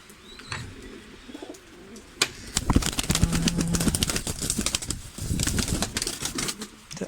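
Pigeons on a balcony in rainy weather coo and shuffle about, with bursts of flapping wings and busy pecking and tapping, fairly close and lively, and no talking.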